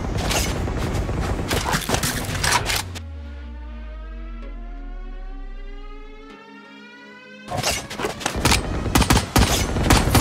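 Raze's satchel charges going off in a Valorant round: loud, close bursts of booming blasts at the start and again near the end, with a descending electronic tone and ringing harmonic hum sustained between them, no talking.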